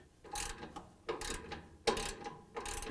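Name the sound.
7/16 socket wrench ratcheting on a GE dryer idler pulley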